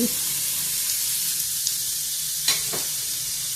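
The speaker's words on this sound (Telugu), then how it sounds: "ఇప్పుడు ముల్లంగి గడ్డల్ని కూడా వేసేస్తున్నాము" Radish pieces frying in a pan for a radish chutney, a steady soft sizzle and hiss throughout, with a couple of brief stirring clinks near the end and no talk.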